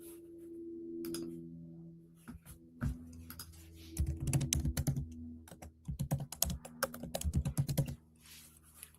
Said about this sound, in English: if you hear that clicking, that's me searching and pulling it up.